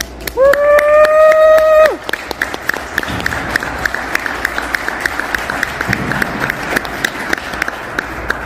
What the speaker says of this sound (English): especially after the standing ovation, or really just the clapping he got after practice, started by my mom